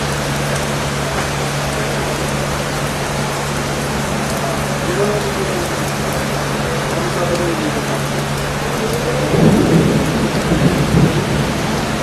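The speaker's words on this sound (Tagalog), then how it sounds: "inabutan ng ulan" Rain pours steadily in a heavy downpour, a constant broadband hiss, while a low rolling rumble of thunder swells near the end.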